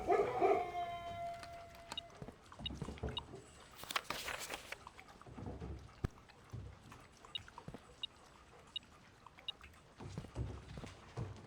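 Beagle dogs in the video game Blue Prince howl briefly at the start, a faint high wavering cry followed by scattered quiet game sounds and small clicks.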